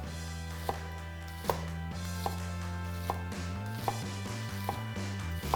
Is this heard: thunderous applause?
no